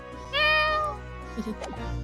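A cartoon cat meows once, clear and bright, inside the video game The Great Ace Attorney Chronicles, followed by faint background game sounds.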